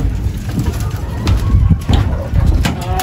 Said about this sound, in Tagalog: pakita ko sa inyo yung kalapati natin